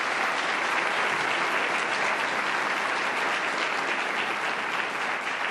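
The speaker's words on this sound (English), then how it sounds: "Let's give her another round of applause." An audience applauding at a campus welcome day event, a dense, steady wash of clapping from many hands that holds at an even loudness throughout.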